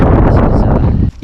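Strong wind buffets the microphone on the hilltop of Brent Knoll at a wild camping spot, a loud, rumbling low roar that holds steady before dropping away abruptly near the end.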